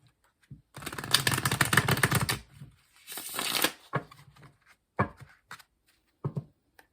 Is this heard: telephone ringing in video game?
no